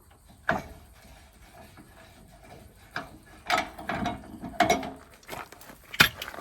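A caravan jockey wheel is taken off, with scattered close mechanical clunks, ratchet-like rattles and metal knocks coming in short bursts over a quiet background.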